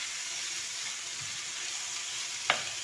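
Chicken breast pieces sizzle in a pan with onion and sweet pepper, a steady bright hiss of frying that continues evenly throughout, with one brief clink near the end.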